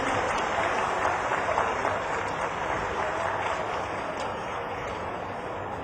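Large crowd clapping at a live political rally in Sheopur, Madhya Pradesh, a dense sustained wash of applause from many hands, steady and fairly loud throughout with no speech.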